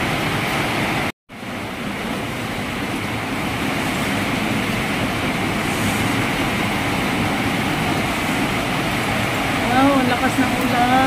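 Heavy rain falling hard, a thick continuous roaring hiss like surf, loud and close, briefly cut by a moment of silence near the start, with a faint voice toward the end.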